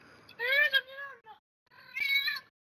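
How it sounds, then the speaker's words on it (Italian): A cat meows twice in a Fortnite game, two drawn-out, clear calls with a short gap between them, close and fairly loud, with no talking over them. "Subito il gatto risponde."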